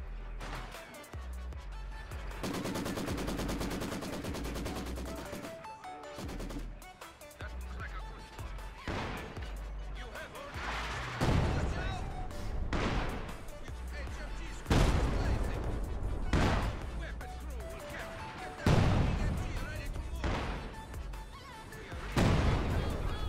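Heavy thuds of a ZiS gun alongside machine gun rattle in a war video game, loud impacts recurring every few seconds, with someone talking between them.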